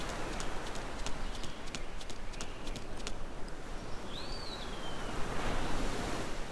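In the video game The World Named Fred, continuous rushing water fills the scene with a steady, broad hiss, while faint rhythmic clopping footsteps and a brief whistle-like tone sit on top.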